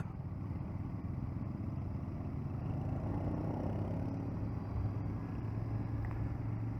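A Royal Enfield motorcycle engine hums steadily at close range while riding, a constant mid-pitched drone with faint rattles and no talking.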